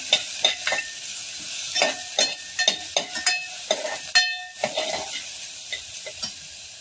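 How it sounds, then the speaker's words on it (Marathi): Onions fry in a pan with cumin and bay leaf for Kolhapuri chicken sukka, a steady close sizzle broken by repeated scraping stirs of a spoon against the pan, with no talking. "कांदा थोडासा ब्राऊन होईपर्यंत भाजायचा"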